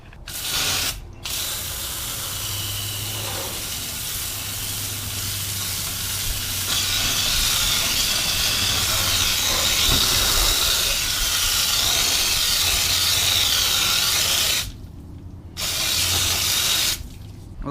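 A water spray rinses cleaner off a car wheel: a loud, steady hiss that stops briefly near the start, runs on, then pauses twice more toward the end.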